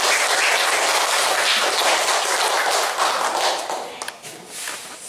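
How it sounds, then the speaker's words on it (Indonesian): A seated audience at a lecture bursts into loud, dense applause, a broad wash of many hands clapping at once that thins slightly near the end, with no voices over it. "Tepuk tangan untuk semangat Anda"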